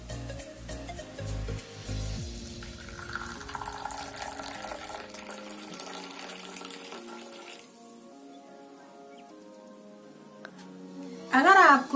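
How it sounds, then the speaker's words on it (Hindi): Strained masala tea is poured into a cup, a short liquid splash near the end under steady background music. "अब कप में डालेंगे।"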